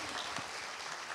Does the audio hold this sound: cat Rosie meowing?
no